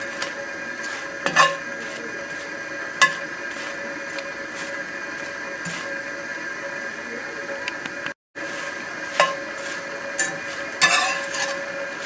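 Spam migas cooking slowly over low heat in a pan, a soft steady sizzle with scattered clinks of a utensil against the pan, fairly quiet throughout with one brief dropout.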